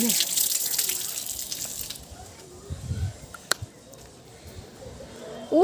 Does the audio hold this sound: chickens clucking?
no